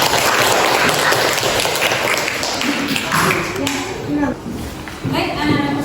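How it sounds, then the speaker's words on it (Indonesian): Schoolchildren clap for their classmates in a classroom, dense lively clapping with a background hum and children's voices chattering through it, tapering slightly near the end. "Tepuk tangan dulu dong buat temannya."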